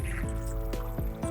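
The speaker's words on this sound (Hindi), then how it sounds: "ये देखें मैं पानी लगा रहा हूँ" Water poured from a container onto coriander seeds in a grow bag: a steady, close, liquid trickle with a few short gurgling pulses and no talking.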